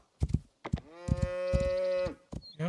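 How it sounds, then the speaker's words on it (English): Cattle in the open-world survival game Rising World give several loud, close moos, the longest a sustained drawn-out low call, with short grunting calls before and after. "See some more cows down here."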